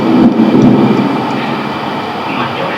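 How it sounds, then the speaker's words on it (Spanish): A thunderstorm in a video game rumbles low and heavy, with a loud roll at the start that fades into a steady stormy wash of rain and distant rumble. "Tiempo actual, tormenta eléctrica."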